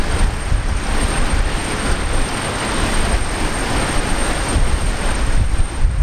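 A United Boeing 777 touches down at Brisbane Airport, heard as a steady, broad roar of jet engine and airflow that holds fairly level throughout, with no voices.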